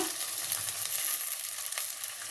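Gongura leaves dropped into hot oil that already holds fried green chillies, giving a steady, close, crackling sizzle with a bright hiss throughout and no talk.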